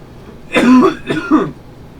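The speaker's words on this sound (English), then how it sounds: "why am I coughing?" A person coughs and clears their throat in two short, rough bursts, close and loud, with a brief pause between them.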